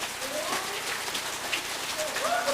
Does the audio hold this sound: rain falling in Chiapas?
yes